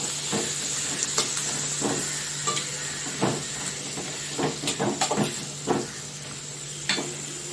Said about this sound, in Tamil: போட்டுட்டு நல்லா வதக்கிடுங்க.